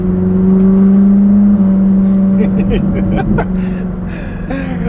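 A car engine drones loudly and steadily as it revs to redline, its pitch holding high before dipping, with a voice briefly heard over the rumble.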